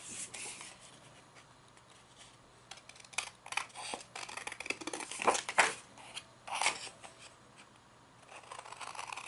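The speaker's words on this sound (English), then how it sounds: "I use the scissors for cutting these" Scissors snip through vintage printed paper while images are cut out for a craft project, giving a run of crisp, close cutting and rustling sounds that cluster in the middle, with no talking.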